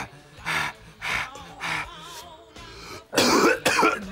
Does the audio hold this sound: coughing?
yes